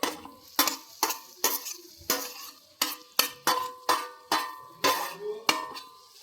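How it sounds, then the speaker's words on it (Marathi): Three or four finely chopped onions cooking in a pan for restaurant-style paneer butter masala, with about a dozen sharp, rhythmic scrapes and clanks of a spoon stirring against the pan over a soft background. "3-4 कांदे बारीक बारीक कापून ते पण टाकायचे."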